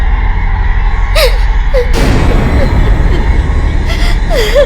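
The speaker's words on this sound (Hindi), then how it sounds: "ये अजीब से रोने की आवाज कैसी?" Eerie, wavering crying in a Hindi horror television drama rises and falls in a few drawn-out wails, set against a low droning background with a sharp disturbance in the middle.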